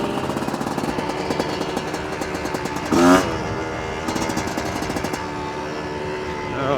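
A Chinese dirt bike engine revs and pulls steadily through the gears while riding on Koh Samui, with a louder surge as a gear change comes about halfway through, close and continuous.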